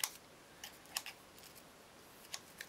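Small scissors snip cardstock for a homemade Christmas card, a few faint, quiet clicks and snips spaced irregularly over a near-silent background.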